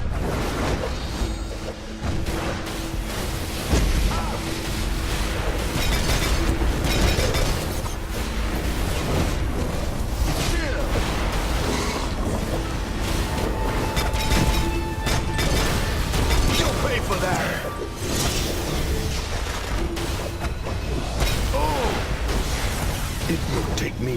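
A contraption blown apart in a Wonder Woman video game, loud booming explosions and whooshing bursts over a dense, continuous roar of battle, with voices talking over it.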